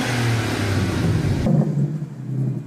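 A Volkswagen W12 engine revs loudly and close, a dense rumbling roar that swells, then cuts to a lower throaty drone before climbing again.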